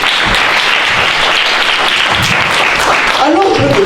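A church congregation gives loud, steady applause in a full room. Dense clapping fills the whole space, with a voice heard faintly beneath it.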